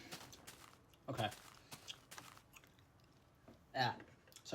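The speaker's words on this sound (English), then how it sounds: "I'm like chewing gum during the time lapses" Gum chewing close to the mic, soft wet clicks and smacks at irregular moments over a quiet background, with faint typing-like ticks between them.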